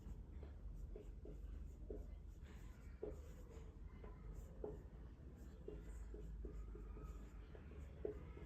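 Pen or marker writing on a board during a chemistry lesson on thermochemistry, with short scratchy strokes repeating irregularly over steady room noise, close and moderately loud.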